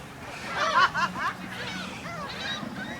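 A seagull being caught by hand lets out harsh, nasal honking squawks in a quick burst, close and fairly loud, then trails off into fainter calls over outdoor background noise.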